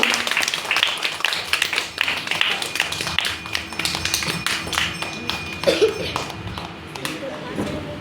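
An audience claps at a spring festival performance, a steady, moderately close patter of hands running throughout while a person talks over it.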